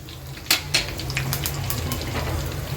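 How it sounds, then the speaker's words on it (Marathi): Mustard seeds, cumin and curry leaves splutter in hot oil with asafoetida in a tempering pan, giving sharp scattered pops over a steady low frying hiss, close and moderately loud, with no voices. "राई जिरा तडतडलं का"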